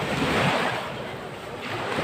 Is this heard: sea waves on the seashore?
yes